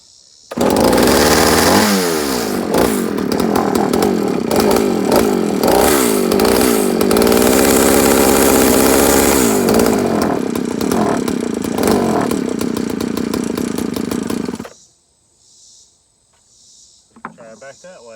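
A Partner P7000 cut-off saw with a freshly rebuilt carburetor roars loudly and steadily for about fourteen seconds with uneven revving, then cuts out abruptly, leaving near silence with a few faint knocks.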